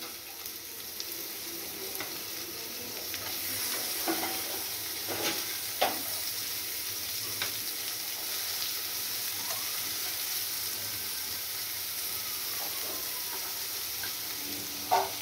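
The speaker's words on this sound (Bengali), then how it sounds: "এবার দিয়ে দিলাম ক্যাপসিকাম কুচি।" Chopped capsicum, carrot and broccoli are stir-fried in a pan with a steady, moderate sizzling hiss throughout and occasional scraping stirs of a utensil.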